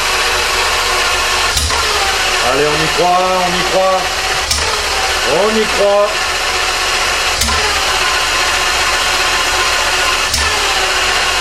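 A Ferrari Testarossa engine cranks over twice with a rising, whining starter sound, then a steady engine hum continues while people speak excitedly nearby.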